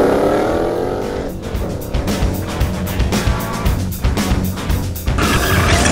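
A 2015-2017 Ford Mustang GT with a Borla exhaust system revs and accelerates nearby, its deep exhaust note rising and falling in bursts with a loud, reverberant roar.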